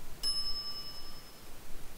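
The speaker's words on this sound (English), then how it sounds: "some idiot's already ringing that stupid bell" A single bright ding from a shop counter service bell in the video game The Secret of Monkey Island rings once and then fades with a clear ringing tail.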